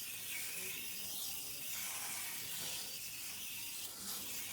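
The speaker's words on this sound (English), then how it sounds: "So I'm going to spray right on the coil" Coil cleaner sprayed onto the aluminum fins of a home air conditioner coil, a continuous soft aerosol hiss, fairly faint and close, swelling slightly in places with no talk.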